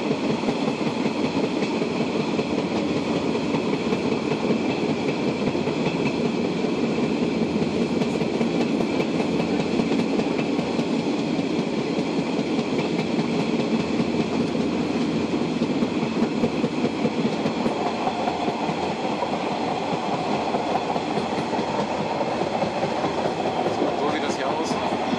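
The Molli narrow-gauge steam railway running at speed, a steady rumbling roll with rhythmic wheel clatter heard from aboard, continuous and fairly loud, with a voice speaking at times.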